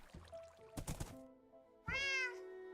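A cat meows in the Minecraft video game, a few short mews early on and then one longer, louder drawn-out meow near the end, over quiet game ambience.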